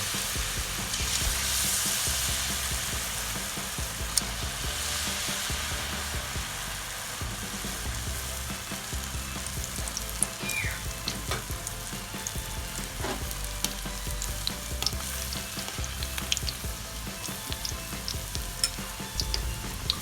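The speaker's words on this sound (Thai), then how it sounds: "เอาไส้กรอกไปชุบแป้งก่อนนะคะ แล้วก็มาลงทอดเลยค่ะ" Flour-battered sausages deep frying in hot oil, a dense continuous bubbling sizzle with scattered crackles and pops throughout, no talk.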